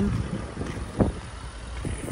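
Wind buffets a handheld microphone outdoors in steady low rumbling gusts, with one sharper thump near the middle and no speech.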